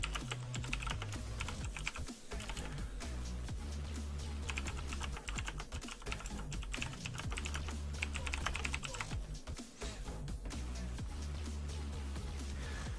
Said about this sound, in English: Now, I'm sorry if you guys hear a lot of keyboard typing in the background.